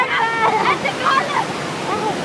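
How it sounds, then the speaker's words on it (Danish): Rushing water from a waterfall on an amusement park ride at BonBon Land, a steady loud splashing roar heard close up, with excited voices talking and shouting over it. "Ja, den bliver lige taget ned, fordi der er et vandfald!"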